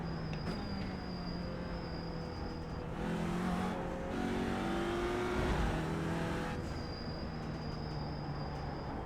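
Multi-class race cars, including Porsche Caymans, circle Sebring at night in iRacing, a steady engine drone with pitch rising and falling as cars pass, at moderate distance, with no talk.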